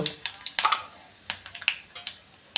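Mustard seeds, cumin and asafoetida hitting hot oil, a quick run of sharp pops and crackles over a soft sizzle, close and fairly loud, with a little talk in the background.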